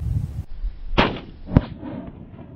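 Two sharp gunshots from a Canik TP9SFX pistol firing at targets out to 138 yards, spaced about half a second apart, loud and outdoors with a short ringing decay.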